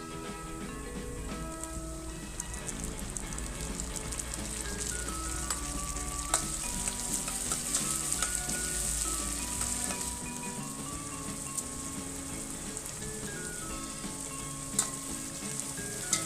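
Green chillies, curry leaves and tomatoes fry in a pan with a steady, dense sizzle, a close continuous crackle that runs without talk and swells briefly near the middle.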